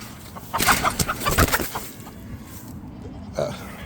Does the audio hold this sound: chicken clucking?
yes